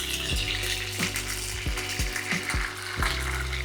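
Batter poured into very hot beef dripping around sausages for toad in the hole, giving a steady close sizzle and crackle throughout with soft splashy pours.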